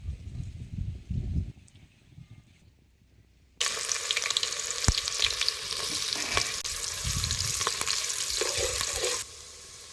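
Onion frying in hot oil in a pan on a wood-fired clay stove, a quiet low stir at first, then a loud steady sizzle begins and carries on with occasional scraping before it drops away near the end.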